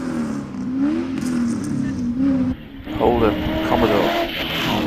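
A 6-litre Holden Commodore race car at a rally hillclimb drones loudly with a wavering engine note that dips, then climbs again as it revs, under a commentator's voice.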